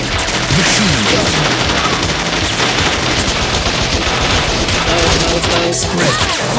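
Bot Vice video game machine gun fire roars in a dense, continuous, loud barrage of rapid shots with crashing impacts throughout.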